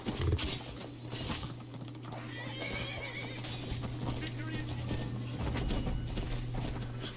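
Horse hooves clip-clop in the Skyrim video game alongside whinnying, with a steady hum and scattered clicks under the game sounds and a voice talking at times.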